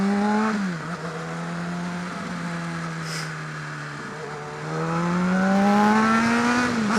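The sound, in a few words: car engine revving during heel-toe downshift while braking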